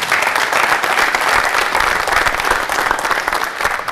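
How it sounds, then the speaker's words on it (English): A crowd of children and adults claps steadily at a youth basketball clinic, dense continuous applause filling the gym without talk. "I think these kids need a nice round of applause"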